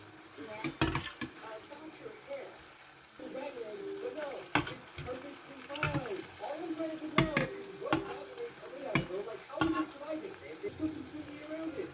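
Sweet bonda deep-fry in hot oil, a low bubbling sizzle punctuated by frequent sharp metal clanks of a utensil against the pan, with a voice talking intermittently over it.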